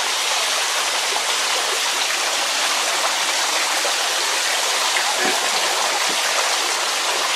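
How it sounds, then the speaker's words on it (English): Water pours from a water wall pumping station at a haunted tent attraction, a loud, steady rushing and splashing that runs unbroken throughout. "Water wall pumping station."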